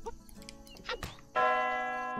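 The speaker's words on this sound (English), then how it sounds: "Ring the bell!" A bell rings out in a dragon-themed platformer game, one bright struck tone that hangs and slowly fades, after softer in-game rustles and movement sounds.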